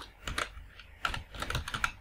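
Keys clacking on a computer keyboard while entering a label in road-design software, irregular bursts of several keystrokes, close and fairly quiet, with no talking.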